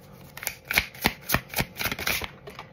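A deck of tarot cards is shuffled by hand, a run of about ten crisp riffling bursts in a fairly regular rhythm, close and clear with no talking.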